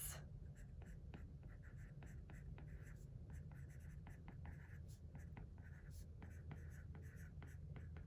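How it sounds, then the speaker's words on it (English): A stylus writes on a tablet fitted with a matte screen protector, giving close, papery scratching strokes in quick irregular bursts over a soft background hiss. "it actually sounds like you're writing on paper"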